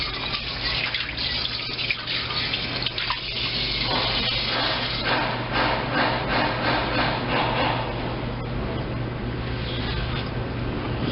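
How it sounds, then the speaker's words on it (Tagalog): Water pours steadily into a cooking pot while ampalaya and saluyot are being prepared, a continuous close splashing and trickling that runs the whole time with no talk over it. "Maglagay ka kaya ng konting-konting tubig."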